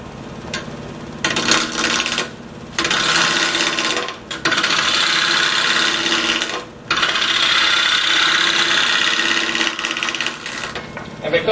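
A wood lathe spins a square-edged bowl blank while a gouge roughs it, giving a loud continuous scraping rasp broken by brief gaps and intermittent knocking from the unbalanced corners; someone speaks over it at moments.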